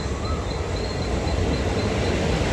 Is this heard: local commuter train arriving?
yes